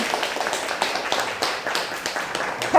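Audience clapping in thanks at the close of a community lecture on the Dongil Textile women workers' movement, a steady mid-level patter of scattered hands with no talk over it.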